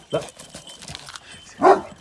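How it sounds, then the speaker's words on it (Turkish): A ten-month-old dog gives two short barks, one near the start and a louder one near the end, with someone talking in between. "10 aylık maşallah yani 10 aylık köpek"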